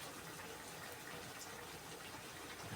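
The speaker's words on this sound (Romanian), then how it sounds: "Pun puțină apă" Water pours into a pot of tomato broth soup with noodles, giving a steady, faint gushing wash that runs unbroken throughout, with no talking over it.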